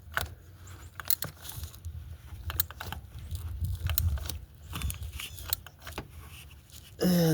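A ratchet tightens a spark plug on a 2008 Honda Odyssey, giving close, irregular clicking and ticking bursts over low handling rumble. A brief louder scrape comes at the end.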